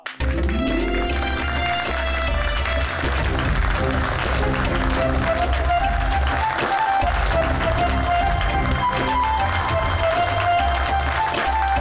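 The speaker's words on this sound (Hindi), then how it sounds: "जोरदार तालियों से स्वागत कीजिए मिसेस नायरा गोयनका।" Audience applause welcoming Mrs. Naira Goenka, sustained loud clapping and crowd noise mixed with music running steadily throughout, close and dense.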